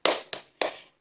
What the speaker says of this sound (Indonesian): Oke ibu-ibu, mari kita tepuk hebat.